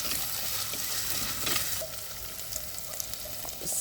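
Ginger sautéing in hot oil in a pan for a Kerala-style chatti chicken curry, a steady close crackling sizzle with stirring scrapes, slightly quieter after the midpoint.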